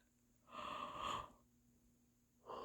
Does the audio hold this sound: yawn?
yes